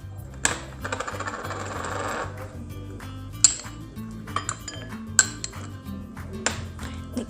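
A couscous salad with tomatoes, cucumbers and walnuts is tossed in a bowl, giving a soft rustling churn punctuated by several sharp clinks of a utensil against the dish, close and fairly quiet, with no talk.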